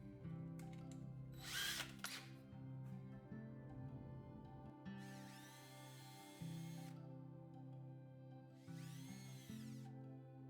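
Power drill countersinking a screw hole in a wooden clothespin, running in several short bursts of whirring and grinding with pauses between, close and clear with no talk.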